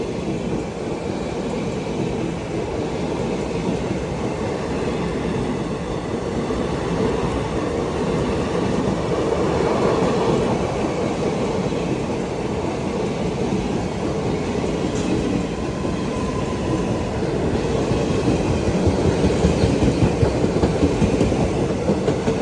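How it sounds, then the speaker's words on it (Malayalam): The Maveli Express rumbles past alongside the Vivek Express on an Indian railway, heard as a steady, loud rolling roar with faint clickety-clack of wheels, continuous for over twenty seconds with no voices. "മാവേലി എക്സ്പ്രസ് വിവേക് എക്സ്പ്രസിനെ ഓവർടേക്ക് ചെയ്യുകയാണ്."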